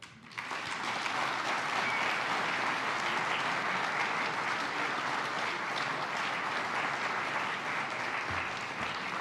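An audience applauds steadily and fairly loudly for about nine seconds to welcome Chris Rufo on stage at a livestreamed talk, a dense even wash of clapping with no voices.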